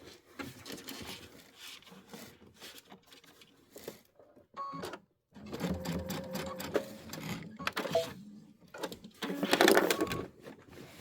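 A sewing machine stitches in the ditch on layered fabric, running in short bursts with mechanical clatter and whirring, pausing as the fabric is pivoted, close and fairly loud with rustling handling noise.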